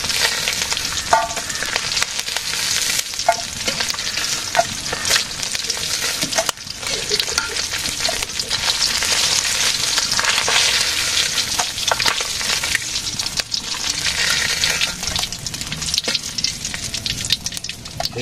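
Fish frying slowly in hot oil in a village kitchen, a loud, steady crackling sizzle that runs unbroken throughout, with small pops and occasional stirring scrapes.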